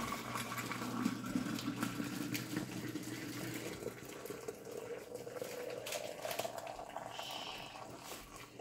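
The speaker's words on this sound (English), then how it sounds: "I'm going to set my strainer on here and very, very, very carefully, I'm going to try and strain this liquid into the jar" Potato cooking liquid pours through a strainer into a jar, a steady trickling and splashing stream whose pitch rises gradually as the jar fills.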